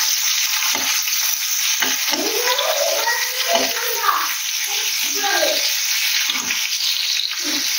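Ground spices sizzling and frying in oil for a prawn and potato curry, a continuous loud hiss with scraping stirs throughout and no speech.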